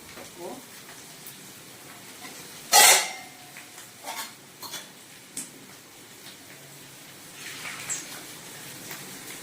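Fried chicken pieces drop into a pan of cooking vegetables with a loud sizzling splash, followed by scattered clatters and a low frying hiss, while someone talks over the cooking.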